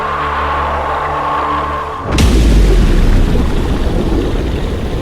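A weapon firing and exploding, a sound effect from the Stingray puppet TV series: a steady tonal hum cuts off into a sudden loud boom, followed by a heavy rumbling roar that carries on to the end.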